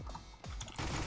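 Dual Beretta pistols in CS:GO fire a rapid burst of close, crisp shots that builds into a dense spray of gunfire.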